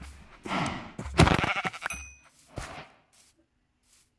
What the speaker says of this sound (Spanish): ahí hay tres ovejas